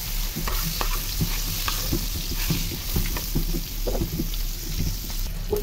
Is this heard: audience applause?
no